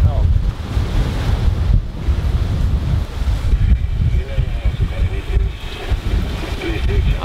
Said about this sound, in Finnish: Ja aika hurjat tulee nämä aallot.